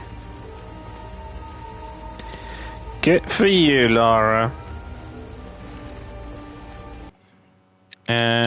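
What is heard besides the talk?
rain in the video game Tomb Raider Remastered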